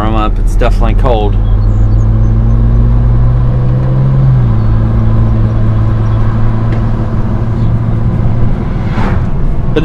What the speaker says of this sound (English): I gotta let my car warm up.